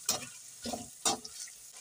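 A ketchup mixture for chicken macaroni being stirred in a pan, three soft scraping strokes over a faint sizzle, close and quiet.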